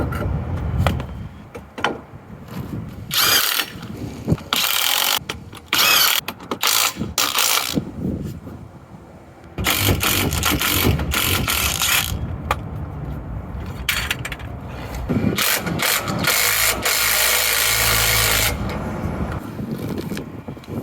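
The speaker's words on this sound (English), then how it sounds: "It's the Ryobi P262 brushless 18 volt 1/2 inch drive impact wrench." A Ryobi P262 brushless 18-volt half-inch drive cordless impact wrench works on tire lug nuts outdoors, firing in several loud rattling, hammering bursts of a few seconds each, separated by quieter stretches of wind and handling noise.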